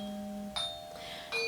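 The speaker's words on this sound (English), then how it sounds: "That's the doorbell." A household doorbell plays a Westminster chime melody of clear, ringing tones, faint and indoors, with successive notes sounding in a short phrase.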